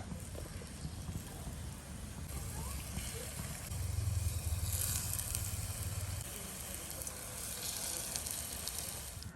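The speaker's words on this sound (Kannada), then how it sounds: "ನೋಡಿ, ಫ್ಲೇಮನ್ನು ಮೀಡಿಯಮಲ್ಲಿ ಇಟ್ಟು ಫ್ರೈ ಮಾಡ್ಕೊಳ್ಳಿ" Onion chaat fries over a medium flame in an appe pan greased with a drop or two of oil, giving a faint, steady sizzle close by, with a voice talking over it partway through.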